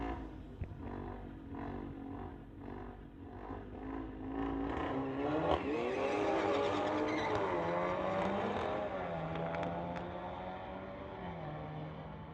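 A 2020 Toyota Supra and a 2017 Golf roar off the line in a street-legal drag race, engines climbing through rising gear pulls and holding a loud, sustained howl that fades slightly at the end.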